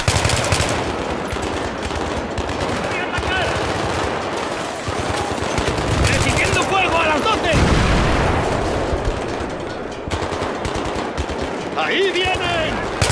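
Sustained automatic gunfire and bursts of shooting in Battlefield 3, loud and dense throughout with booms mixed in, while voices shout over the combat.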